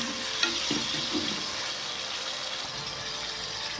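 Chopped tomatoes added to softened onions sizzle in a hot pan, a steady close frying hiss with a few stirring knocks near the start, no talking.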